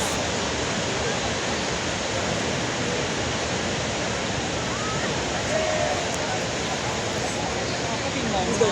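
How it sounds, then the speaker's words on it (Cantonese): Niagara Falls roars up close, a dense continuous broadband rush of falling water and spray with a faint voice briefly audible beneath it. "我而家咧就企個尼加拉瓜大瀑布最近嘅距離啦"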